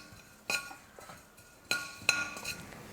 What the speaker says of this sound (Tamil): 1/2 ஸ்பூன் சீரகம் வறுத்துக்கலாம்.